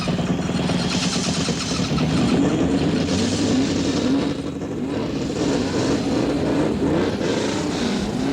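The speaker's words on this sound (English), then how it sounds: "Gentlemen, start your engines." A field of race car engines firing up together at the start of the 1969 Indianapolis 500, a dense, loud, continuous roar of revving motors with no clear break.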